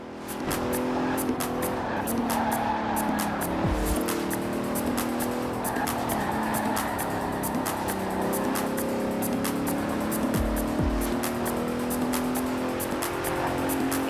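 A 2017 Bentley Continental Supersport with all-wheel drive drives hard in Forza Horizon 4, its engine humming steadily with tire squeals and gear changes, loud and continuous.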